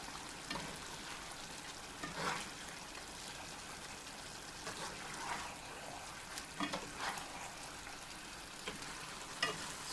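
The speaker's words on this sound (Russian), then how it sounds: "Все хорошенько перемешиваю." A spoon scrapes and stirs through a simmering pot of Uzbek mashkichiri stew in repeated strokes, under a constant soft sizzle, close by and fairly quiet.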